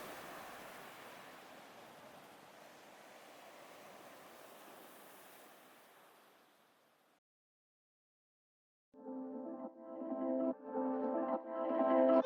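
Surf rolling onto Melasti Beach in South Kuta, Bali makes a soft, even wash of noise that slowly fades to silence, after which music comes in.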